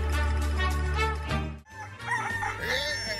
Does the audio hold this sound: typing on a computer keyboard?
no